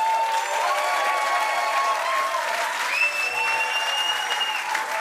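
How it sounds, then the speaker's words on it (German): Warm, sustained applause from a theater audience at a German cabaret award show, dense clapping held at an even level throughout, with a few faint tonal sounds drifting above it. "begrüßen Sie mit einem herzlichen Applaus"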